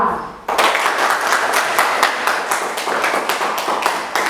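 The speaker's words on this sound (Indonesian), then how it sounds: "mari kita beri tepuk tangan untuk kelompok 2" A classroom of pupils claps for a student group after its discussion presentation, a dense, steady patter of many hands that begins abruptly and continues close and loud throughout.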